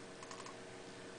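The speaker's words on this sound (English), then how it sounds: "I'm typing in the license key." Typing on a computer keyboard while entering a software license key, a brief quiet burst of soft keystrokes clustered near the middle over a steady background hiss.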